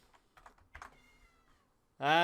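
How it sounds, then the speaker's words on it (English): A cat meows loudly once at the very end, close by, after a stretch of faint keyboard typing and quiet background voices in a home gaming setting. "You can hear the cat."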